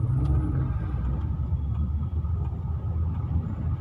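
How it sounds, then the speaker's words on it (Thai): Dense Bangkok traffic rumbles all around, a steady low drone of car and bus engines heard close from inside a vehicle, with faint clicks and no talking. "รถเยอะมากครับ"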